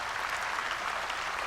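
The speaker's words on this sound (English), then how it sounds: "So give him a round of applause before anything." A crowd at the 2001 Video Premiere Awards gives a round of applause for a show's leader, producing a short, steady, full burst of clapping with no voices audible over it.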